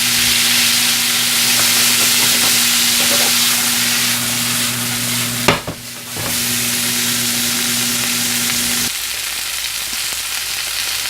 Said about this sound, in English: Now we're going to saute these up about another minute or two